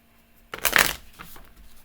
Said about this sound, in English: Shuffling pile number 2.